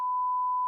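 A steady pure 1,000 hertz test tone, a single unbroken beep held evenly at moderate loudness, alone with no voices.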